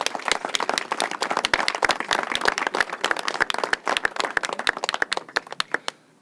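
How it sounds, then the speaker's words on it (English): A crowd applauds with dense, steady clapping that carries on for several seconds, then thins out and fades at the end. "They need a big round of applause."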